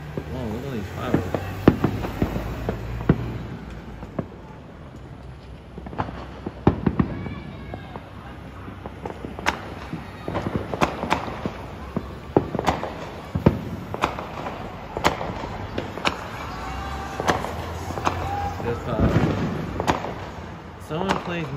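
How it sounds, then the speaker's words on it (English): Fireworks bang and crackle in an irregular volley of sharp pops from a distance, with people talking and exclaiming underneath. "Whoa, look at these fireworks."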